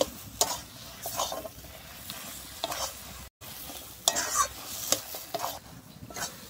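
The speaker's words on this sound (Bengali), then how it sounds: "আমি গরম মশলা গুঁড়োটা দিয়ে ভালোভাবে কিন্তু মিশিয়ে নিচ্ছি।" A spoon stirs garam masala into a sizzling prawn and taro stolon curry in a pan, giving repeated soft scraping strokes over a steady low frying hiss, close and fairly quiet, with no talking.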